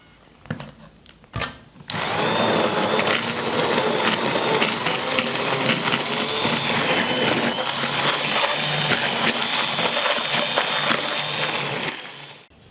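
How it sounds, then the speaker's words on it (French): A blender whirs loudly and steadily for about ten seconds, pureeing a mushroom, chestnut and bean soup, starting abruptly after a few faint knocks and winding down at the end. "Je vais mixer la soupe."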